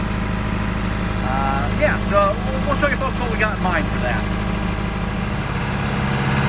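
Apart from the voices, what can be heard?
John Deere 2510 tractor engine running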